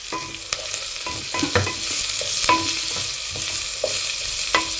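Garlic frying in a pan, a soft continuous sizzle broken by repeated clinks and scrapes of a spoon stirring, fairly close, with no talking.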